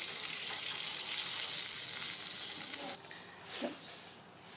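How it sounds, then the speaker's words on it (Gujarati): Buttermilk poured from above into a cooking pot of dhokli shaak, a steady liquid splash and trickle for about three seconds, then stopping, followed by faint kitchen clatter. "તો હવે આપણે ઉપરથી થોડી છાશ ઉમેરીશું."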